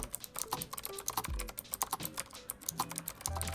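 Typing on a 7Keys Retro Typewriter keyboard with blue clicky switches, close and crisp, with rapid irregular clacks and a few heavier thumps, likely from larger keys.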